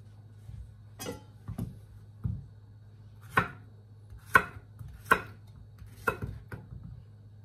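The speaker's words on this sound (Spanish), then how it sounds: "la manera de picar ya es opcional, si la quieren picar redonditas o en tiras o cuadritos" Zucchini chopped on a cutting board, about eight separate knife thuds spaced unevenly, close and clear against a quiet low hum.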